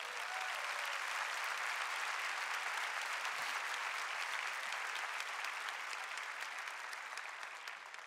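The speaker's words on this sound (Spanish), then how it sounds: "Dale un fuerte aplauso a tu papá." A church congregation applauding together, a dense and sustained roar of clapping that holds at an even level throughout and tapers only slightly at the end.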